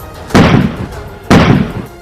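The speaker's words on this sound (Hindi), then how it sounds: "पुलिस की तरफ से छोड़े गए आंसू गैस के गोलों की वजह से वहां तेज धमाके जैसी आवाजें सुनाई दी।" Two loud, sharp bangs about a second apart from police tear gas shells being fired, each with a short booming tail, heard outdoors with nothing else over them.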